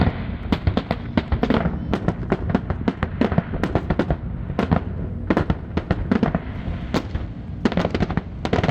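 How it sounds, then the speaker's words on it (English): Fireworks burst over the desert dunes at Liwa Festival, a loud dense barrage of cracks and booms in rapid clusters with brief lulls, over a constant rumbling roar. "Festival stands out with its spectacular fireworks displays each evening at 8 p.m., lighting up the desert sky"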